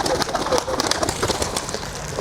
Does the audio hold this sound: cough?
no